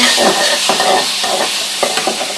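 A pan of onion cooked with turmeric powder, chili powder and garlic paste is stirred, its broadband sizzle steady and close, broken by repeated scraping strokes of the spoon through the mixture.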